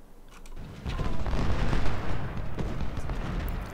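Cannon artillery fire in the Civil War strategy game Ultimate General, Antietam battle: a swelling, dense rumble of booming shots and crackling musketry that builds loud and stays sustained.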